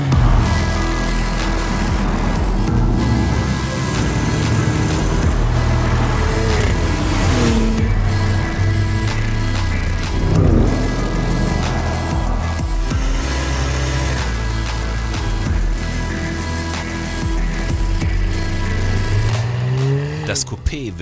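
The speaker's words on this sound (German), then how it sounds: "Der Sound vom neuen Cayenne Coupé." A new Porsche Cayenne Coupé engine runs loud and continuous, with rising and falling revs and what may be tyre noise, and voices talk over it throughout.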